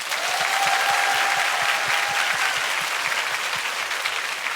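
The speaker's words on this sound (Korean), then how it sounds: "박수 한번 주시죠, 여러분." A television studio audience gives a dense, steady round of applause for a Korean punk band, many hands clapping together at an even level throughout.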